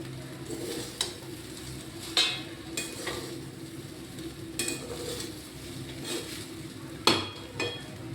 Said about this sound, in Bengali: আমি এবার এই ডিম আলু সব দিয়ে দিচ্ছি।